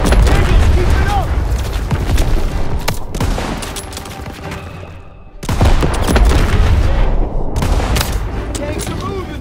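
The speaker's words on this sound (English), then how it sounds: "Thanks for the fire support, Daniels." Gunfire in a Call of Duty: World War II battle, with dense bursts of rifle and machine-gun fire and booming blasts filling most of the stretch, a brief lull in the middle, then heavy firing again.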